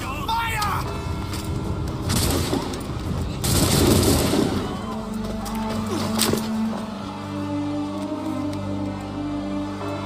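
Musket volley in Assassin's Creed III, a burst of several overlapping gunshots cracking together over loud battle noise, with a sustained roar and low rumble continuing afterward while people shout nearby.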